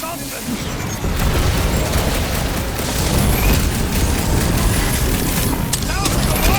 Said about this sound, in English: Sounds like a lot of flarking gunfire.